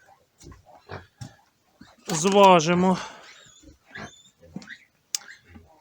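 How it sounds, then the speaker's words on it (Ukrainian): A newborn white piglet squeals loudly for about a second in a rising, harmonic burst while being picked up for weighing at a farrowing, with someone talking before and after. "Беремо біленького такого поросятка"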